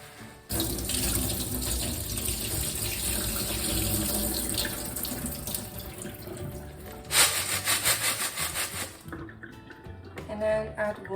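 Tap water runs steadily into a sink, with a brief splashy burst as red beans are rinsed, then the flow cuts off and a few drips follow.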